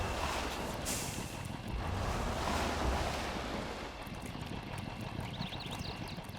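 A truck in the video game Spintires: MudRunner churns steadily through water with its exhaust submerged, a rushing, splashing wash and a low engine rumble that fades slightly toward the end.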